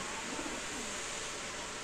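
Caged pigeons, including Baghdadi pigeons, coo softly in short throaty bursts over a constant broadband hum.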